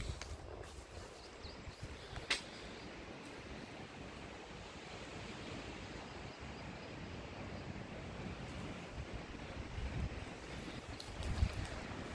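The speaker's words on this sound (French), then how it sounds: "désolé si vous entendez le vent, ça souffle pas mal" Strong wind gusting around an abandoned castle during urban exploration, a steady broadband rush buffeting the microphone for the whole stretch, with occasional sharper gusts and no voices.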